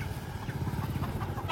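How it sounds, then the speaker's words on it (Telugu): Chickens and chicks in a village with tiled-roof houses, clucking steadily and nearby against a continuous low background rumble. "ఇక్కడ చూడండి, కోడి పిల్లలు,"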